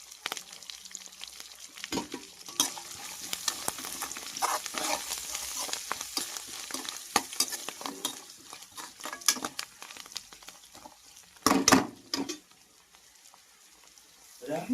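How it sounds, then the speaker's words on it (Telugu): Coriander fries in a pan of tempering with turmeric, a steady close sizzle broken by sharp scraping stirs and clatters, one louder burst near the end. "నేనైతే కొత్తిమీర కూడా దీంట్లోనే ఫ్రై చేస్తున్నాను."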